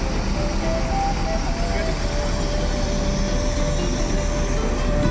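A large intercity coach pulls away from Kampung Rambutan bus terminal during the 2025 Lebaran homecoming rush, a steady engine rumble and busy terminal noise continuing throughout without a clear break.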